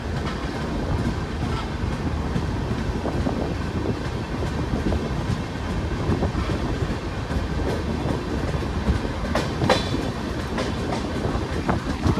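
The Garib Rath Express runs steadily along the tracks from Kolkata to Guwahati on a rainy day, a loud continuous rumble with rhythmic clickety-clack of wheels and occasional metallic squeaks.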